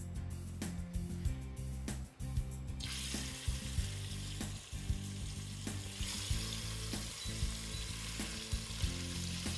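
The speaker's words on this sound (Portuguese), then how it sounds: "Queres isto a fritar, mas não é para cozinhar depressa." Chicken with rice and chorizo frying in a pan at medium heat, a steady close sizzle with scraping and stirring clatter throughout, the hiss rising slightly after the first few seconds, with no talk.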